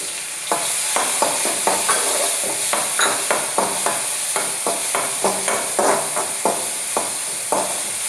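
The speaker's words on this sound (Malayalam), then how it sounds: "ഈ വെളുത്തുള്ളിയും ചുവന്നുള്ളിയും കൂടെ ഇട്ടതേ കുറച്ചൊക്കെ എണ്ണയൊന്ന് തെളിഞ്ഞ് വരട്ടെ കേട്ടോ, കുറച്ച് നന്നായിട്ട് വാടിയിട്ട്" Crushed ginger, garlic and shallots fry in oil for a coconut-based varal fish curry. A continuous close sizzle sits under regular, evenly spaced scrapes and clinks of a spoon against the pan, about two per second, with no voices.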